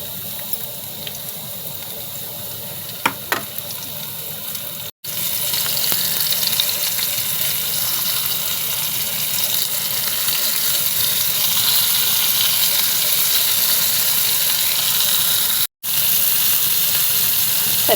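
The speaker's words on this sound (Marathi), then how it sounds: "एक एक करून बोंबील घालून घेते." Bombay duck fish (bombil) sizzle in oil on a hot griddle over a gas flame, added one by one. The frying hiss is steady and close, with a brief handling clatter near the start and no talking.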